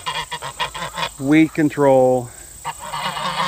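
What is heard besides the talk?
geese honking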